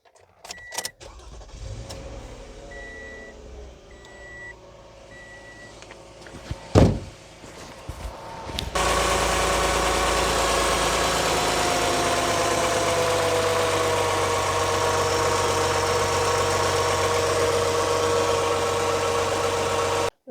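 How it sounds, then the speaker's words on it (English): 2015 Toyota Sienna FWD 3.5 V6 starting after an oxygen sensor replacement: a few clicks, a brief cranking burst, then a steady, even idle that holds close and loud to the end. "So we are just going to start the engine for a bit"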